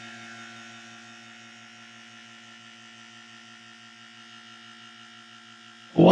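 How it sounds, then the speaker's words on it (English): A vacuum pump runs steadily on a vacuum chamber with water inside, making a continuous mechanical hum with a fast pulsing flutter underneath. It stays even and close for several seconds before a sudden loud knock at the end. "Okay, so I'm gonna turn on the vacuum here."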